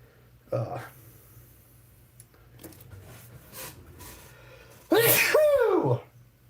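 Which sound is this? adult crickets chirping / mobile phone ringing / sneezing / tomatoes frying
sneezing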